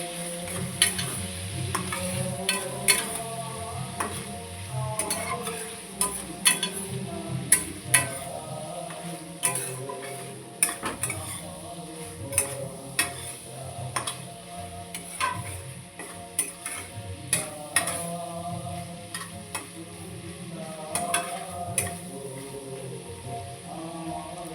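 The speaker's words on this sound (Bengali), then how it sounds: "এ পর্যায়ে মাছটা ঢেকে ঢেকে ভেজে নেব। আর একবার ঢাকনাটা খুলে এটাকে নাড়িয়ে দেব।" Prawns frying in a covered pan for prawn pulao, stirred now and then: a steady soft sizzle with intermittent scraping and clinking of the spoon against the pan, close and continuous, with no talking.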